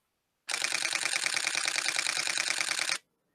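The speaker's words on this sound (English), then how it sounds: "I want to do a transition, but I want the shutter transition" A camera shutter transition effect: a rapid, steady burst of mechanical shutter clicks fires continuously for about two and a half seconds, crisp and close, alone against silence with a clean start and stop.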